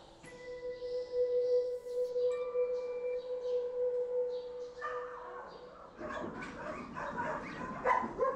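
Dogs at a large Romanian animal shelter housing about 1,500 dogs whine and howl in long drawn tones, then break into a dense chorus of overlapping barks and yelps from many animals, near and far.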